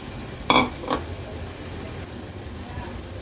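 Peeled baby shrimp (karandi) tipped into a hot pan: two quick clattering drops, then a steady, soft frying hiss that continues alone.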